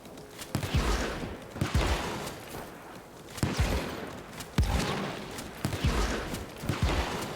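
Gunfire and grenade blasts in the video game Evil West: faint, rapid volleys of shots broken by five or six dull booms spaced about a second apart, with no voices.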